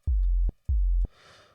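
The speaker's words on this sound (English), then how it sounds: "So we're going to turn this pitch envelope on, and what that's going to do is make it sound like this," A deep synth bass note with a pitch envelope, made in Ableton, sounds twice as short punchy sustained tones with clicky attacks. A brief soft noisy tail follows, heard alone and close.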